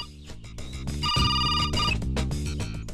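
A telephone rings in a Hindi comedy scene, a loud, steady electronic trill with a bright, sustained tone that carries over a busy, full background for about three seconds, with no talking.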